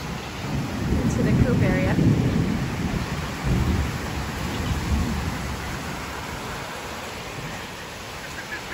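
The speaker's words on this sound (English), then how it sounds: "thank goodness, finally raining." Steady rain hisses throughout as a low roll of thunder rumbles early on; a voice speaks briefly and a bird chirps faintly.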